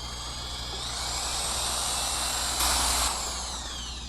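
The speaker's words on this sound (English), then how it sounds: "we've got this mixing wand here attached to a drill" A drill spins a mixing wand through Plasti Dip paint, a continuous whirring drone that swells slightly and holds steady and close, with a brief brighter surge near the end.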